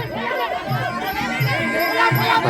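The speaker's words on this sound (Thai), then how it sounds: "โอ้เสียงเชียร์เริ่มดังครับ" Spectators at a Muay Thai fight raise a swelling cheer and chatter, a steady crowd roar running beneath close, excited commentary.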